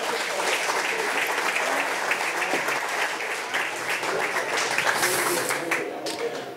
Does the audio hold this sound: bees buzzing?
no